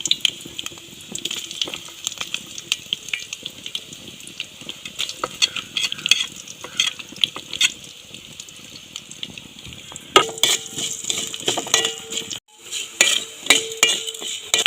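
Garlic frying in oil in a pan for a banana-flower and mackerel thoran, a steady close sizzle with scraping and stirring clinks of a utensil, sharper pan knocks near the end.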